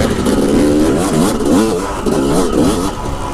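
Motorcycle engine fitted with a Lectron carburetor at high elevation, revving up and down in quick repeated blips, loud and close with sharp throttle response and a raspy, clattery tone, no talking.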